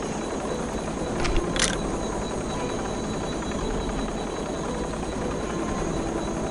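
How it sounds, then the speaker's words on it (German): A helicopter in the video game Soldier of Fortune 2 gives off a continuous, steady rotor drone throughout, with a couple of brief sharp clicks early on. "Da ein Helikopter, kann das sein?"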